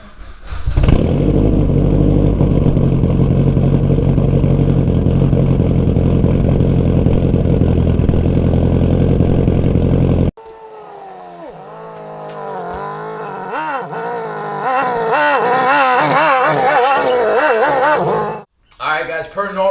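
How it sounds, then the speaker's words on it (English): A Mitsubishi Evo X engine cold-starts and settles into a loud, steady high idle close by for about ten seconds, then the sound shifts to a rougher, fluctuating engine note with a voice talking over it. "In the meantime now, let's go ahead and get a cold start going."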